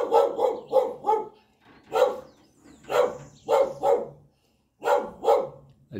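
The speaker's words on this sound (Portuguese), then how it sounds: "Tem um cachorro preso ali" A chained, agitated dog barks repeatedly in short bursts of two or three, loud and fairly close, with brief pauses between volleys.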